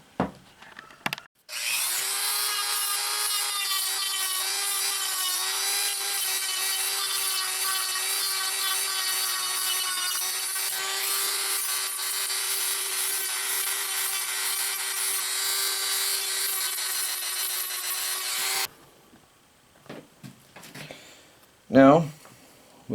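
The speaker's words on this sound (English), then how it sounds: "I'm going to use the Dremel with a sanding disc." A high-pitched Dremel rotary tool with a sanding disc whines continuously as it grinds against reclaimed wood for about seventeen seconds, then stops; a few knocks and handling noises follow.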